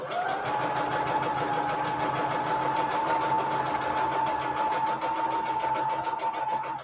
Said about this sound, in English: I'm also pretty much trying to sew as close as possible to the actual needle line.